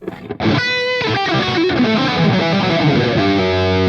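Heavily distorted electric guitar through a Revv Generator 100 MKIII amp with gate and reverb, playing sustained notes and chords with a washy reverb tail, loud and continuous after a short quiet start.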